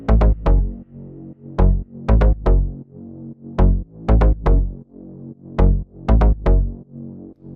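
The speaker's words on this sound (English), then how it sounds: "And our bass group sounds like this." Deep Afro house bass synth stabs play in a syncopated rhythmic pattern, short punchy notes repeating in groups, heard solo with no other instruments.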